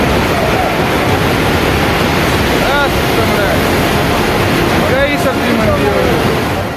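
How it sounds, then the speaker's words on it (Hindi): Floodwaters surging with crashing waves during the Wayanad landslide disaster in Kerala, a loud, continuous roar of churning water and wind buffeting the microphone throughout. "लहरों ने ऐसा कहर बरपाया कि देखते ही देखते एक विशालकाय इमारत इन लहरों में समा गई।"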